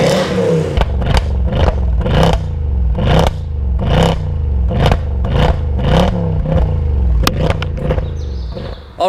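A Mercedes C63 AMG with over 520 horsepower revving hard in a rapid series of loud, snarling throttle blips, each rising and falling, close by with no talk.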